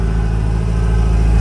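A 1981 Ferrari 308 GTSi with a five-speed manual idles steadily close by, a continuous low engine drone with a faint rising hint of revving and no voices.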